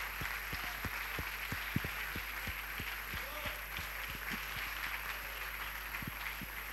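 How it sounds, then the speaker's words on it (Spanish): Applause from a concert audience, a steady dense wash of clapping with a faint rhythmic throb underneath, fairly quiet and distant throughout. "Merecido aplauso"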